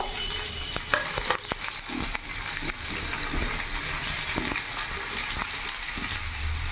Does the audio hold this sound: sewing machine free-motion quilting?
no